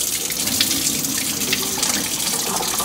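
Tap water gushes steadily into a kitchen sink while food is rinsed for a meatloaf, potatoes and green beans dinner, a close continuous splashing rush with no talking.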